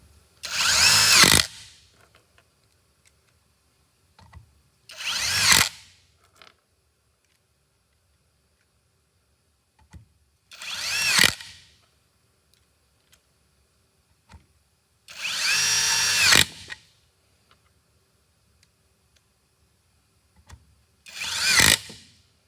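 A DoWox impact driver with a 10mm socket drives bolts in five separate loud bursts, each a second or two of rapid hammering whir, spaced by several seconds of near silence.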